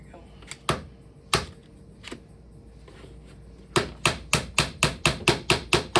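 Sharp hammer blows strike plastic Codex Quest spine pieces as they are knocked together during assembly: a few scattered taps at first, then a rapid, evenly spaced run of about ten loud, close knocks.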